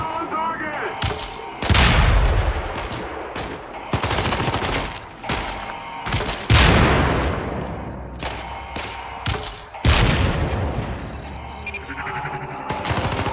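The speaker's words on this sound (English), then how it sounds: "This is the TAR assault rifle with underslung grenade launcher." Repeated bursts of TAR assault rifle gunfire in the video game Syndicate, loud close automatic volleys with sharp onsets, separated by short pauses and ringing decays.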